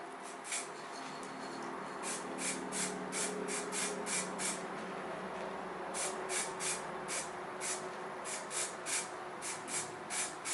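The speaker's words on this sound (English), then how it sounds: "now let's turn the whole thing and spray in this direction" Short hissing bursts of gold spray paint on a lightsaber emitter repeat in an irregular rhythm over a steady background hiss, close by, with no talking.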